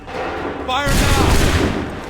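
A musket volley in the video game Assassin's Creed 3 erupts as one loud, sustained crashing blast after a shouted command, rumbling on for over a second.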